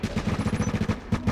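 A turret in the video game The Division fires a rapid, rhythmic burst of automatic shots, loud and close, pausing only briefly and running without any talk.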